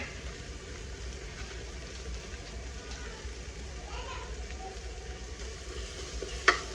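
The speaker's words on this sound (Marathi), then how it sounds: "हलवून घेते तेल सुटेपर्यंत" Goda masala frying in oil for an Indian shak bhaji, stirred in a pan. A low, steady sizzle runs throughout, with a single sharp scrape near the end.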